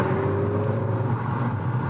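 Seat Ibiza FR on a road test drive, its engine droning in a steady low rumble from inside the cabin, continuous and fairly loud with no talk over it.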